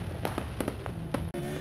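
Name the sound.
New Year fireworks exploding in Mimika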